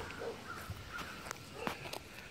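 A pet goose swimming gives several short, harsh honking calls at close range, spaced irregularly over light background noise, with no talking.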